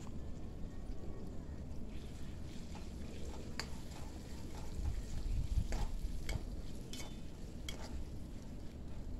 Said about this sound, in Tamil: அதே கடாயிலே வந்து நம்ம வெங்காயம், தக்காளி, இஞ்சி பூண்டு போட்டு நல்லா வதக்கிக்கலாம்